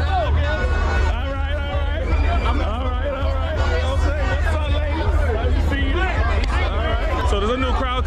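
Dense crowd hubbub at Notting Hill Carnival in London, a packed street of overlapping voices and shouts with music-like tonal lines running throughout, loud and continuous.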